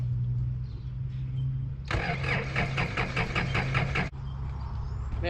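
A Gehl skid loader's engine cranks over with a rapid, rhythmic starter churn for about two seconds, then catches and settles into a steady idle, loud and close outdoors.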